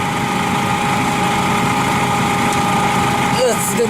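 A hatchback car engine runs loud and close with a fuel-injected idle and slight throttle rise during a repair, its steady rumble filling the clip while a faint voice and clatter sit beneath it.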